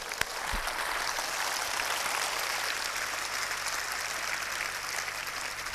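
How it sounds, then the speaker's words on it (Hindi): A crowd at a patriotic speech applauds for the Indian Army, a thick, sustained roar of clapping from many hands, steady and fairly loud throughout, with a low hum underneath. "भारतीय सेना के लिए ताली बजाओ दो बार"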